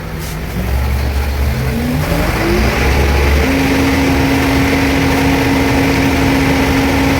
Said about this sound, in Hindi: अब मैं आरपीएम बढ़ाऊंगा दोस्तों पैडल से